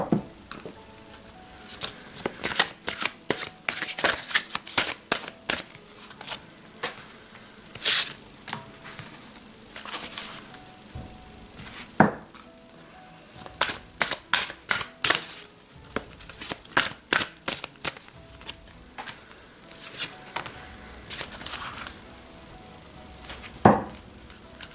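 Tarot-style cards being shuffled and laid out one by one for a hexagram spread, heard as a long run of close, crisp snaps and soft slaps in uneven bursts, with no talk.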